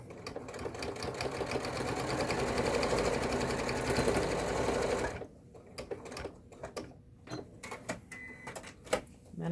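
A sewing machine stitching fabric runs in a steady, fast whirring hum for about five seconds, then stops, leaving scattered close clicks and handling noises of the fabric and machine.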